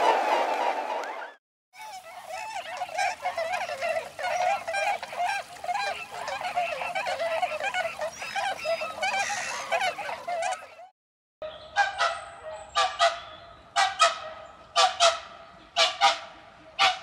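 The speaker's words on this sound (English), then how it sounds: "Both Bewicks and Whooper Swans have graceful, bugling honks, with Whooper Swans adopting a slightly deeper tone." Bewick's and Whooper swans give bugling honks in a dense, continuous chorus from a flock. After a short break, louder separate honks ring out in a loose rhythm.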